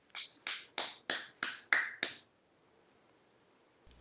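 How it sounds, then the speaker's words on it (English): Seven deliberate, evenly spaced claps ring out in a slow clap for a co-host's introduction at a spooky Halloween show, each sharp and close, followed by quiet. "Slow clap."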